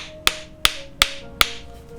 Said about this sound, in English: place it on, a few good taps to get it up the hammer handle.